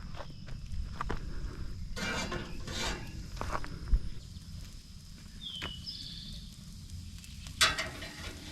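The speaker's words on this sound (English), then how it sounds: "As I sit here, watching my steak cook over the fire" Steak sizzles over an outdoor campfire at a forest campsite, a quiet, steady frying hiss with occasional rustling, shuffling movements and a couple of brief clicks nearby.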